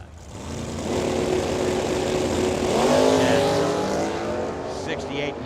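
A 1968 Ford Mustang drag racing at Firebird Motorsports Park roars past from a trackside position, its engine rising into a loud sustained snarl and then fading slightly, while an announcer talks over it.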